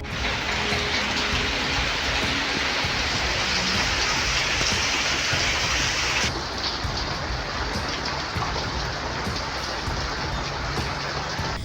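Heavy monsoon rain pours down in Devgad on the Konkan coast, a loud, dense, unbroken roar of falling water with no voices.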